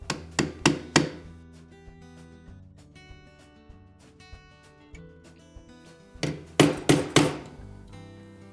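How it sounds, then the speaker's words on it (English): Sharp metallic hammer taps on a socket, driving a motor coupling onto a top-load washer shaft, in two quick bursts of four strikes each, ringing briefly, with a quieter pause between the sets. "You're just going to tap it into place with your socket and hammer."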